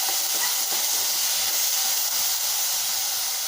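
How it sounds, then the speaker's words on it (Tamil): A sambar base of small onions, tomato and radish sautéing in a pan gives a steady, broad hiss that holds evenly throughout, fairly loud and close, with no voices. "இது நல்லா வதங்கிட்டு இருக்குங்க."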